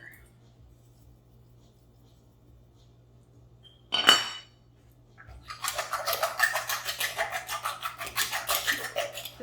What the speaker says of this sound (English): Just going to whisk this all together, make sure everything is all well blended.